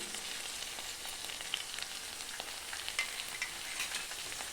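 Ginger garlic paste sautés in a pan with a soft, steady, fairly faint sizzle and light scattered crackles throughout.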